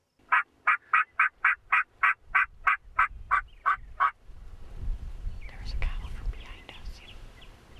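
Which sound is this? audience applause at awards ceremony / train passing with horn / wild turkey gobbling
wild turkey gobbling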